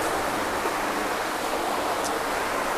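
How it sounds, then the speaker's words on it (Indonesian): A clear river flows along a natural outdoor stream, giving a steady, even broadband rush of water that holds constant throughout with no voices. "Ini kan ada aliran sungai nih, ya."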